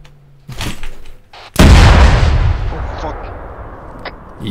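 A single loud, close artillery blast from a self-propelled gun in the ArmA 3 military game booms and rolls away in a long decaying rumble, following a brief quieter burst of sound.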